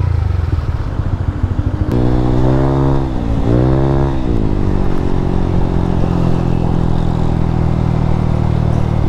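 A motorcycle engine fitted with a 36mm throttle body and no ECU revs up sharply twice from a rough idle, then settles into a steady, loud high idle close by.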